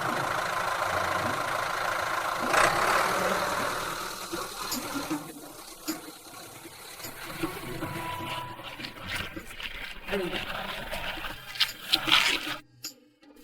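A tractor engine runs loud and steady, a dense rumbling drone with rattling, knocking mechanical clatter that swells and dips before cutting off abruptly near the end.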